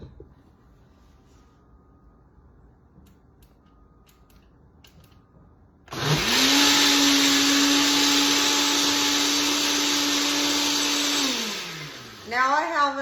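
A blender runs on high while making a creamy peach breakfast smoothie. After a quiet lead-in it surges into a loud, steady roaring whir for several seconds, then winds down, followed by a few short bursts.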